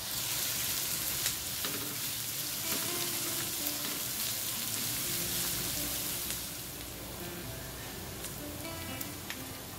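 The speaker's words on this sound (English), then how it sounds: "When the oil heats up, add the onions and saute for a minute." Onions sauté in hot oil in a wok over medium heat, a steady close sizzle and crackle running the whole way with faint scrapes, easing slightly toward the end, no voices.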